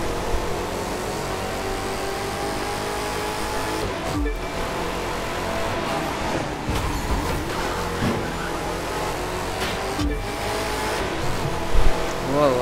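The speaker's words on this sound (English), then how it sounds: "Whoa, that sounds like a true race car." A race car from the video game The Crew 2 roars as its engine revs and shifts through gears, a loud, continuous drone with brief dips and surges and occasional faint tire noise.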